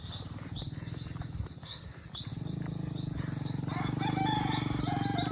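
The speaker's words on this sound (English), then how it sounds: "Some savage chickens up here." Chickens cluck and squawk repeatedly nearby in a volcano area of Tepic, Nayarit, overlapping calls that grow busier and louder toward the end over a low background rumble.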